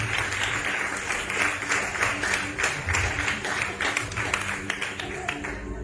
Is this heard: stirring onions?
no